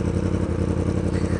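A 2016 Yamaha R1 motorcycle is being ridden, its engine giving a steady, dense mid-low drone with faint clatter, close and continuous throughout.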